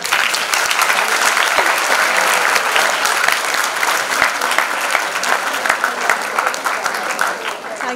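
Loud, dense audience applause fills an auditorium at a felicitation ceremony honouring two teachers, holding steady without a break from start to finish.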